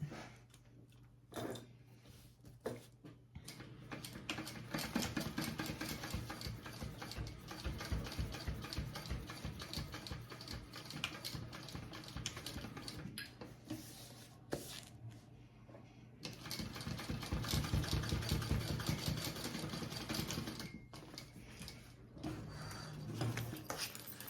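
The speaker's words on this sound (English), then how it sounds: "I'm just gonna sew up and then back down this card slot" A sewing machine stitches up and back down a card slot on a bound travel belt, its fast mechanical whirr running steadily and close for most of the stretch with short pauses between runs.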